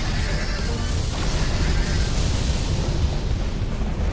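Intercontinental missiles explode around a Storm Engine in a real-time strategy battle, a dense, continuous roar of overlapping blasts and booms that fills the clip from start to finish without letting up.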